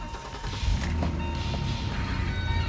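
A car engine with only 1,600 miles, sitting in a salvage yard, gives a couple of rising revs up close, droning steadily without talk.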